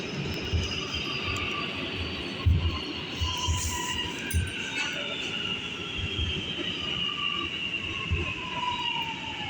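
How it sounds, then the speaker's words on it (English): An R211A subway car on the New York G local line rolls steadily along the track, with a continuous rumbling roar, rhythmic wheel clatter and high whining wheel squeal, close and loud with no voices. "This is a Bedford Milford Avenue bound G local train."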